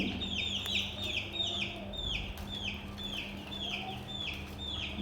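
A hen clucks in a steady run of sharp, repeated calls right after laying an egg indoors at home. It is close and clear over a low background hum.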